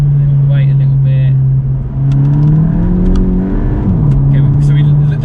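A Volkswagen Golf GTI MK8 accelerates hard in second gear on a slippery, cold road and loses traction. The engine drones loud and close, rising and dipping in pitch, while people talk over it.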